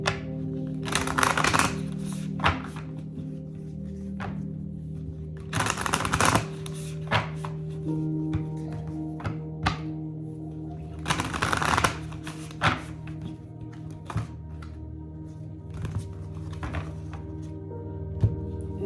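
Playing cards are shuffled several times, each riffle a brisk fluttering burst, separated by softer handling clicks and taps against a low background hum.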